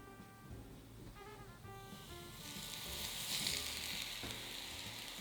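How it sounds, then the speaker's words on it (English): Hot oil is poured over dry noodle seasoning with gochugaru, breaking into a loud, bright, hissing sizzle after a quiet start and staying strong to the end, with no talking. "The magic happens when we pour this hot oil over our dry ingredients."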